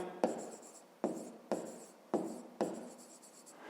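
Pen writing by hand during a fifth-grade maths exercise, with five distinct scratchy strokes spaced about half a second apart, close and quiet with no talk.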